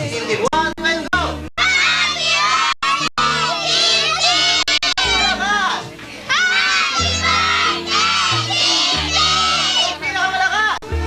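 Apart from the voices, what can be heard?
children clapping, stomping and cheering at birthday party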